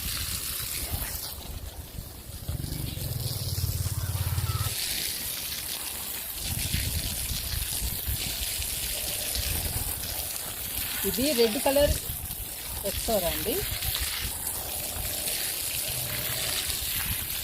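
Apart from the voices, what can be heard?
water being poured onto garden plant basins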